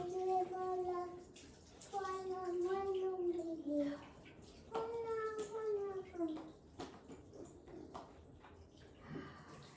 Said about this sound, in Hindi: हाथ मुँह धो लेती हूँ।